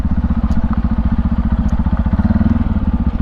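A motorcycle engine chugs steadily with a fast, even low pulse, heard up close and continuous throughout with no talking.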